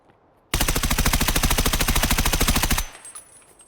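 Automatic gunfire in the video game Escape from Tarkov, one sustained burst of rapid, evenly spaced loud shots lasting a couple of seconds, then a fading echo and quiet.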